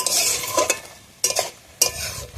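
Ridge gourd and potato curry being stirred and sautéed in a pan, three sharp scraping spoon strokes over a soft sizzle, close and moderately loud, no talking.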